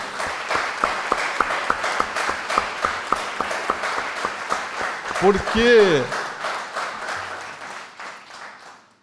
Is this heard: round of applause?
yes